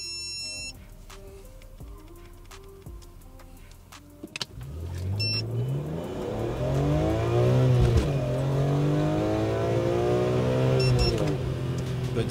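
BMW M3 E46 straight-six, a Japanese-import car, starting from a quiet idle then revving hard with rising and falling engine pitch, loud and close, running continuously for several seconds with no talk.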